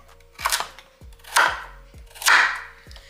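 Knife rough-chopping peeled fresh carrots on a cutting board, three firm, evenly spaced chops with a short scrape after each, close and clear with no talking.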